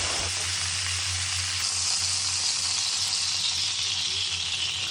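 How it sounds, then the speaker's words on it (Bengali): Small prawns fry steadily in hot mustard oil in a wok, making a continuous loud hissing sizzle that holds throughout, with no talking. "এবার আমি সুন্দর করে মাছগুলো ভেজে তুলে নেব"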